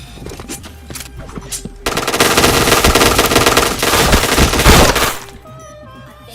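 Dense automatic gunfire in the shooter game Point Blank, a loud sustained burst of rapid shots lasting a few seconds, preceded and followed by quieter in-game clatter and scattered single reports.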